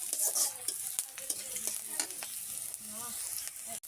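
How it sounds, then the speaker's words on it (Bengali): Ginger and cumin fry in a pan, a soft crackling sizzle with scattered sharp pops and occasional stirring scrapes, steady and close with no talking. "আমি এখানে একটু আদা জিরা ভেজে নেব যাতে কাঁচা গন্ধটা না থাকে"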